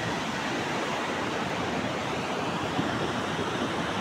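Sea waves at Guhagar beach, a steady, even wash of surf noise heard from nearby, broad and continuous with no voices.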